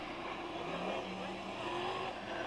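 Dirt modified race cars run qualifying laps at 5 Mile Point Speedway, their engines a distant, steady droning roar that rises and falls slightly as the field circles the track.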